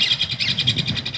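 Birds call in a steady repeated pattern of bright chirping notes, fairly loud and close, pulsing rhythmically over a soft low background with no talk.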